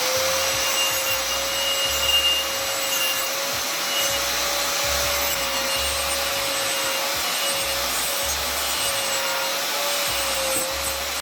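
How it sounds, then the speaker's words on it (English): A wire wheel strips paint from a part of a 2008 RM125 motorcycle with a loud, continuous whining grind and a steady tone that runs unbroken throughout, close up and with no talking. "I could only get the wire wheel like on the outside on these bigger faces."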